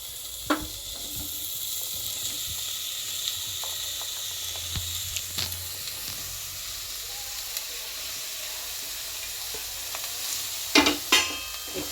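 Pieces of bottle gourd and onion frying in a pan, a steady close sizzle and hiss with a few scattered clicks and stirring scrapes, loudest briefly near the end.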